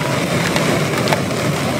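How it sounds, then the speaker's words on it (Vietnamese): Heavy rain pours onto a flooded street in central Saigon, a loud, dense, steady wash of water heard up close with no talking. "Mưa tầm tạ luôn"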